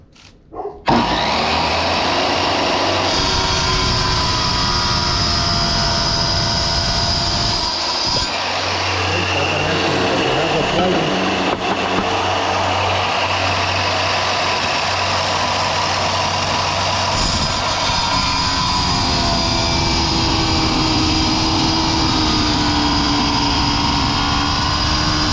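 RIDGID wet tile saw on its stand cutting tile, a loud sustained motor whine that starts abruptly and runs throughout, its pitch and load shifting as the blade works through the cut.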